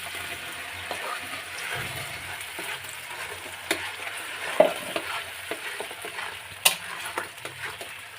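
Onion paste fries in a pan with lightly fried potatoes for a chital fish recipe. A soft, even sizzle runs under scattered clinks and scrapes from a utensil, close by and fairly quiet, with no talking.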